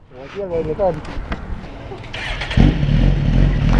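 Ducati V4 race motorcycle with an SC-Project exhaust, rated at 220 horsepower, firing up and revving loudly nearby after a stretch of people talking.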